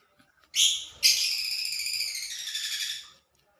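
Pet African lovebirds give shrill, buzzy calls: a short burst, then one sustained rasping call lasting about two seconds, fairly close and with no talk over it.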